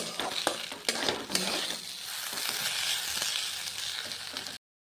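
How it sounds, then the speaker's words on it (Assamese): Rice sizzling in mustard oil in a covered pan, a steady frying hiss punctuated early by a few metallic clanks of the lid and utensils, close by. "ভাজোঁ এনেকৈ ঢাকনিখন মাৰি মাৰি"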